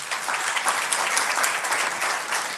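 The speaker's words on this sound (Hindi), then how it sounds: "ताली बजा दो एक बार।" An audience in a classroom or hall claps hands together, a steady, fairly loud burst of many hands applauding throughout, with no one speaking over it.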